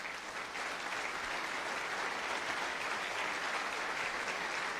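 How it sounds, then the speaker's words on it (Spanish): A church congregation applauds in a steady, dense wash of clapping that holds evenly throughout without any talk. "Dale un aplauso al Señor."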